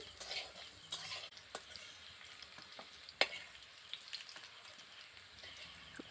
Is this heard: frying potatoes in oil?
yes